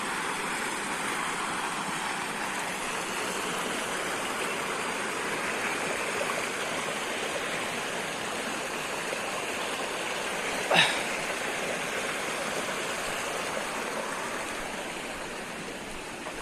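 Steady rushing water from a monsoon waterfall and stream in Konkan, India, fills the whole stretch, constant and fairly loud, with one brief sharp tap partway through.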